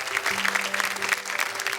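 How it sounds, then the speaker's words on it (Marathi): A studio audience at a Marathi television show bursts into loud, dense applause, with sustained clapping and a faint tone running underneath. "एकदा जोरदार टाळ्या"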